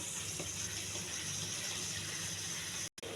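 Water poured into a pan of amaranth leaves makes a steady, close hiss and splash that runs evenly for about three seconds, then cuts off abruptly at the end.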